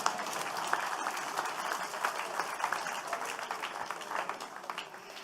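A church congregation applauding to acclaim the Lord at a morning service, a dense, sustained wash of clapping from many hands that holds steady for several seconds before easing slightly, with no speech over it.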